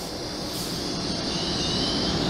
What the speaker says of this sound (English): We have got a TransPennine Express Nova number 1,